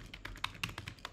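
A quick run of soft, close keyboard taps while a short word is typed into the Eclipse code editor, light and evenly spaced with no talk.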